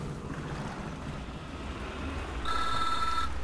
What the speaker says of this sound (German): da klingelt ganz kurz das Telefon